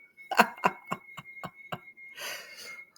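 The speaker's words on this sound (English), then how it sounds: "And of course, the bird clock." A bird clock sounds the hour with six evenly spaced chirping tones, each loud and close, followed by a brief burst of rustling noise.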